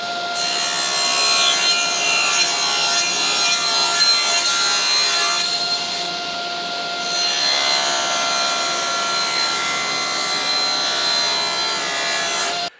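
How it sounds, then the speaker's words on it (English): Steady back-and-forth hand sawing through wood for a woodturning tool rack, continuous rasping strokes close up with a brief lull midway, no talking. "First of all, we'll cut that off, and then we'll cut it to length."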